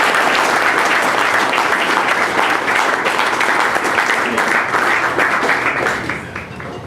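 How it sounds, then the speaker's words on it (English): A banquet crowd honoring the varsity softball team breaks into warm, sustained applause, loud and even for several seconds before tapering off at the close. "These girls deserve a round of applause for that."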